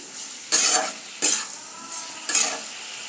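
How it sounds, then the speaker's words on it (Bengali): Boiled potatoes for jhal posto sizzle in a hot pan, with three sharp bursts of stirring and scraping that flare loudly and then settle back into a soft, steady frying hiss. "ভাজতে দিলাম।"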